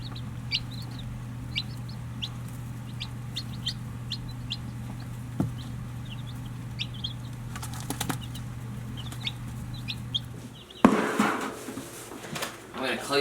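Young hybrid chickens peep in short, high chirps over a steady low mechanical hum, and a burst of flapping wings and scuffling breaks in near the end.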